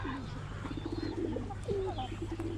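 Breeding pigeons coo softly in a farm coop holding chickens, turkeys, geese and ducks; low, repeated coos come from close by over a steady background hum.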